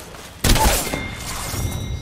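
Gunfire in a video game: a sudden loud burst of shots that opens abruptly and then trails off into a rumbling, echoing tail, with no voices over it.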